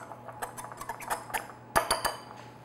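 Flour and spices being whisked together in a bowl for a pumpkin roll batter, a run of light irregular metallic clinks and taps with a sharper cluster of strikes near the end, close and fairly quiet.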